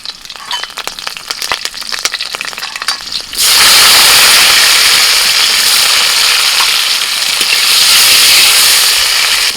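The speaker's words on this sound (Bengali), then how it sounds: "এবার লাউ শাকটা রান্না করব ফোড়নে দিয়ে দিচ্ছি কালো জিরে কাঁচা লঙ্কা" Black cumin seeds and green chillies hit hot oil for a tempering in a home kitchen, with a sudden loud burst of hissing sizzle that stays strong and steady after some quieter clattering.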